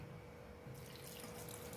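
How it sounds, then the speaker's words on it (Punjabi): Water runs into a bowl of broken jaggery pieces, a soft steady pouring stream that swells a little partway through, faint and close, with no talking. "ਤੋੜ ਕੇ ਇੱਕ ਬਾਉਲ ਹੀ ਅਸੀਂ ਪਾਣੀ ਪਾਵਾਂਗੇ"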